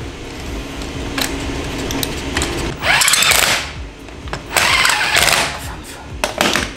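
An impact wrench tightens wheel bolts on Volkswagen Amarok rims, firing loud rattling bursts up close separated by short pauses, with ratcheting clicks between the bursts.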